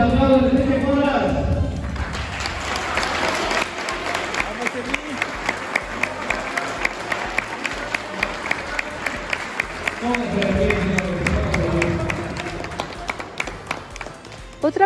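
Parents at a karate belt exam in Mexico clap in a broad burst of applause that settles into scattered claps, with a voice speaking over the room throughout.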